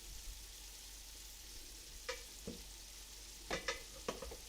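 A sour candy mixture boils in a pot, giving faint, soft bubbling and a few scattered pops and crackles over a quiet hiss.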